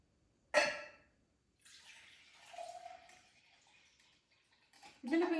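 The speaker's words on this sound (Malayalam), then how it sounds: "കുറച്ചുകൂടെ ഞാൻ ഒഴിക്കാൻ പോവാണ്" Homemade kombucha pours from a container in a gentle, faint trickle with a soft splash at the start, running on and off at close range with quiet talk at moments.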